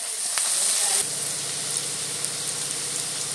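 Chopped onion sautéing in a pan toward golden brown, giving a steady close sizzle and hiss throughout, a little louder in the first second.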